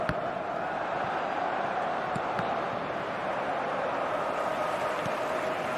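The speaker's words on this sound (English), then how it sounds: "the crowd level has gone up a notch or 10" Stadium crowd in the eFootball 2025 football video game, a steady, dense roar of cheering filling the whole stretch without letup, with a faint commentary voice underneath.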